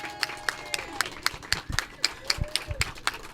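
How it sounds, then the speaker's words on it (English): An audience at a Juneteenth groundbreaking ceremony claps for two Cassidy descendants: scattered, uneven hand claps from a small crowd, close and fairly brisk, with some chatter mixed in. "Let's give them applause."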